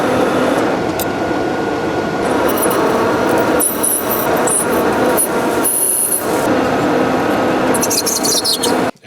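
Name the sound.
lathe turning a piece of Delrin for quilting machine wheels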